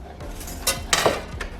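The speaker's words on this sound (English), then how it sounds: "Let's stir it up a little bit." A spoon scrapes and clinks against a pot of thickening blueberry sauce simmering on low heat, a few close metallic knocks and stirring scrapes over a faint background.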